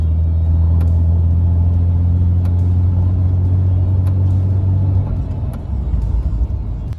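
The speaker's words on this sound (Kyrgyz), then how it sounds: "Жүрүп баратканда 3-чү баскычтан баштайт экен. Аябай жай ылдамданып, 80 чакырым саатка чейин араң жетет." A Mercedes W124 sedan pulls away in third gear and gains speed very slowly, its engine giving a steady, close, low droning rumble that eases and shifts character near the end.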